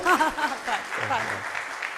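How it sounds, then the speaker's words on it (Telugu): An audience claps in a brief burst of applause that sits under a speaker's continuing talk, fading slightly as the voice carries on. "అవునంటే మీరు క్లాప్ ఇప్పుడు కొట్టండి"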